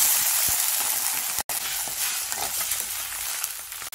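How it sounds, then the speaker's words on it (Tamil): Vegetables with turmeric sauté in a pan for sambar, giving a loud, steady sizzle and crackle with a brief stir-like break partway through and no talking. "எல்லாம் சேர்த்ததுக்கப்புறமா 1 நிமிஷம் அளவுக்கு இது நல்லா வதக்கிக்கலாம்"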